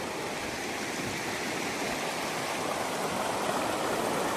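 Freshwater river in Scotland near the Glenfinnan Viaduct, rushing steadily as broadband water noise, close and continuous with no voices.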